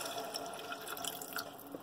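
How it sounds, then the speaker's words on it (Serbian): Water is poured onto basmati rice in a pot, a faint, close trickle and splash with light drips, heard without talking. "sipa se prvo polovina vode"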